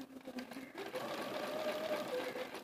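A sewing machine doing free-motion quilting with an open-toe foot, fabric gliding over a slip mat, runs in a steady fast whirring stitch rhythm, close but fairly quiet, with no speech.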